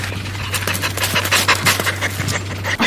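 A dog on a short chain pants in scorching heat in Telolapan, Mexico. Its quick, rhythmic breaths sound close and loud, over a low steady hum.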